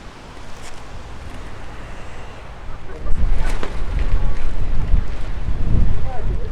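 Strong, cold wind on a lakeshore buffets the microphone in a continuous low roar that grows heavier partway through, with faint voices underneath.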